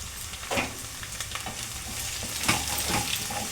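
Chopped onion and turmeric fry in a non-stick pan, giving a steady close sizzle with a few louder stirring scrapes and crackles.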